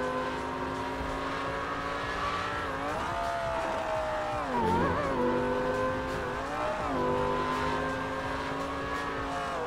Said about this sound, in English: This car just sounds nice.